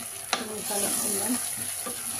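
Potato masala curry with a mixed spice paste is stirred in a pressure cooker, a sharp utensil knock followed by thick scraping, squelching stirring over a soft sizzle, close up with no talking.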